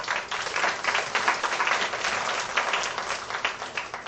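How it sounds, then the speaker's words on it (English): Sustained applause from an audience at a formal annual session, a steady dense wash of clapping lasting throughout at moderate loudness with no talk over it. "A big round of applause for them"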